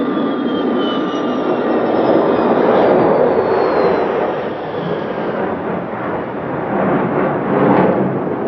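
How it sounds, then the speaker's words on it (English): A Tupolev Tu-144 supersonic jet passes over an airfield, its engines giving a loud, sustained roaring rumble that swells and eases slightly across the pass, with no voices. "The Tu-144 made 3 passes over the airfield."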